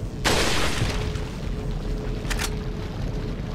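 Rifle fire in the Resident Evil 4 video game: one sharp, loud blast near the start, a softer second burst about two seconds later, both over a steady low game rumble.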